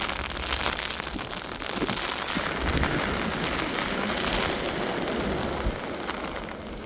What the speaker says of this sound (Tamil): பாருங்க மழை பேஞ்சுக்கிட்டு தாங்க இருக்குது